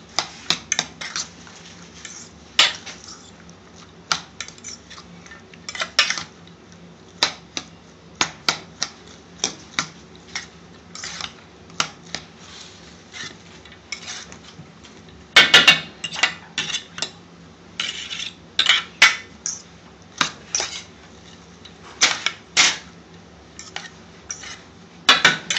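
Tomato and onion chutney stirred in a metal pan in an Indian restaurant kitchen, a close series of sharp spoon-on-pan clanks and scrapes in irregular bursts over quiet background, with no voices.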